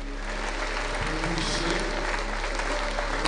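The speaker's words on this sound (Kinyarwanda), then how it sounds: "tukongera Imana amashyi tukayishima" A church congregation applauding steadily, a dense patter of many hands clapping at even loudness throughout.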